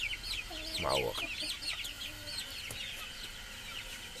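Chickens cluck and peep nearby, with a short louder squawk early on and someone speaking briefly over the birds.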